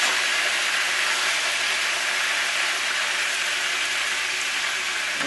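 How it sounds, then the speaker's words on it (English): Escovitch fish frying in hot oil over medium heat, a steady dense sizzling hiss that holds at an even level throughout, close and loud with no talk over it. "Let's fry this one some more."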